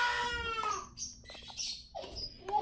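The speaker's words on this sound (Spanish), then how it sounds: "Y después los pájaros atrás también." Birds chirp outside a home, short bright tweets scattered over a few seconds alongside a faint child's whimpering cry in the background.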